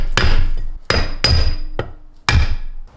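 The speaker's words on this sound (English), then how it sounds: "we'll just hammer tap the piston down and see if we can get it to break" A hammer taps a brass rod against a CRF450 motorcycle engine piston, metallic strikes landing one after another, four or five sharp ringing hits spaced unevenly, each decaying briefly, loud and close.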